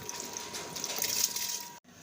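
Rice poured into a pot of boiling water for a vegetable and chicken pulao, giving a steady close rushing, splashing pour that runs for well over a second and then cuts off abruptly.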